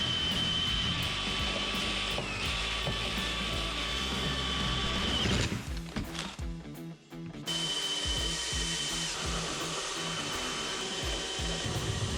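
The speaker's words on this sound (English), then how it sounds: "Drill halfway through the beam and then finish the hole from the other side" A power drill whines loudly and continuously while boring into a wooden patio roof beam, with a brief dip mid-way as it bogs down, then resumes full speed.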